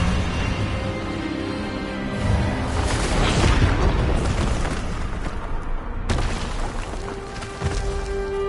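Expelliarmus spell blast in Hogwarts Legacy: a loud, sustained magical boom with crackling, rumbling bursts that swell and fade, followed by a sharp hit and lingering tone.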